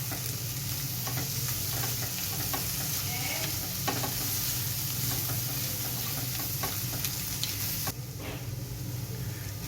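Egg masala with garam masala and fresh coriander sizzles steadily in a hot pan for about ten seconds while a spoon stirs and scrapes through it with soft irregular clicks.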